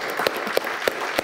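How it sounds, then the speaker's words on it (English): A conference audience at an artificial intelligence event in Berlin applauds, a brief, loud burst of clapping with no talk over it. "this is an extra applause"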